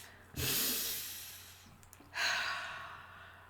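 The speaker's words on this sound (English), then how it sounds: "you take a big breath in, you think of something that makes you smile, and then exhale" A deep breath drawn in followed by a long exhale, then a second inhale and slow exhale, close and soft with no talking.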